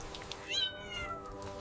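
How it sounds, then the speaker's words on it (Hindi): A small kitten gives a single thin, high meow over faint steady background noise, fairly close and brief, with no one speaking. "ये तो छोटा सा बिल्ली का बच्चा है।"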